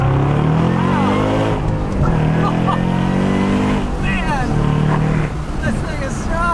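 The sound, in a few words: 2014 Shelby GT500 5.8 liter supercharged V8 engine accelerating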